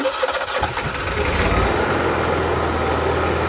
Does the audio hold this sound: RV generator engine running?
yes